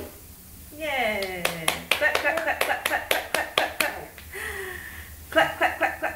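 Hands clap in a quick series of sharp, closely spaced claps, mixed with a voice that chants along between them, close and fairly loud.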